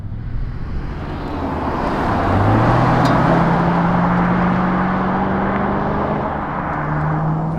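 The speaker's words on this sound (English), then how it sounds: "we're out on the road now in the C4 ZR1" A 1991 Chevrolet Corvette C4 ZR1 coupe cruising on an open road with the top off, its engine a steady close drone with a slowly rising tone, mixed with road and wind noise.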